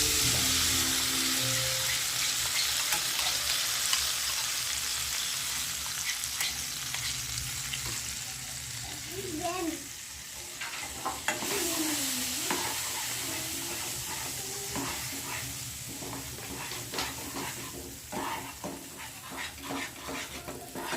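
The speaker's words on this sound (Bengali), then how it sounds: "এরপরে আমরা দিয়ে দেবো তৈরি করা পেস্টটা" A prepared paste for korai shutir kochuri, a pea-stuffed fried bread, frying in a pan and being stirred: a loud, continuous sizzle with scraping stir strokes and soft clinks running throughout, close and alone with no talk.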